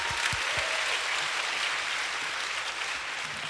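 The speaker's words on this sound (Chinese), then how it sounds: "掌声鼓励" Steady audience applause fills a conference hall after a successful live demo at a COSCUP 2011 lightning talk, dense and even throughout with no voices over it.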